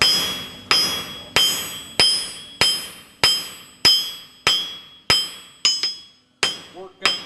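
Hammer blows ring out on a blacksmith's anvil while drawing a taper on a fireplace rake, about eleven sharp metallic strikes in a steady rhythm, each with a bright ringing decay, close and loud.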